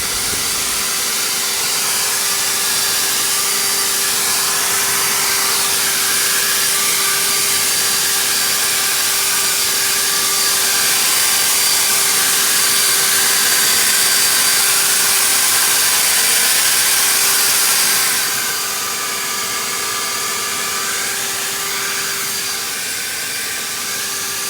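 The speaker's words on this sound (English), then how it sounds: "I'm going to get out the blower and start to get some of this stuff out of the way" A leaf blower runs steadily and loudly nearby, clearing debris outdoors with a constant whining roar that eases slightly in pitch near the end; no one speaks.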